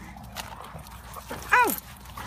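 An eight-month-old black dog gives a short, rising whimpering yelp outdoors at a ball field, brief and fairly close, amid faint background noise and people talking.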